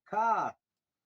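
A person imitates a crow's caw with one short, harsh, nasal "ka" call, close and clear, followed by silence.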